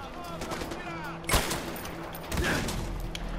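Gunfire in Far Cry 4: two sharp shots ring out over a steady game soundscape with a low hum, and a voice is faintly present.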